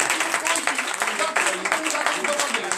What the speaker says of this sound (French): je demande de vous applaudir très fort